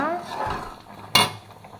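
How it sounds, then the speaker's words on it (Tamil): A spoon scraping and clanking in a pot as a homemade carrot, beetroot and ABC malt mixture is stirred, with soft scraping strokes followed by one sharp metallic knock against the pot. "இது வந்து இப்படி கை விடாமல் கிளறணும்"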